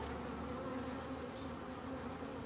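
A tiny honey bee colony of about two frames, with a small laying queen, hums steadily in its hive, a close, continuous low drone with no one talking.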